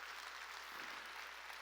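A church congregation claps during a sermon, producing a steady, dense wash of applause that fills the room without a break.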